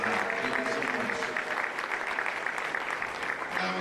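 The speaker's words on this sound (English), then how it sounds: "Let's get a round of applause for that." Steady, dense applause fills a high school sports banquet hall, a large crowd clapping continuously at an even level throughout with no break.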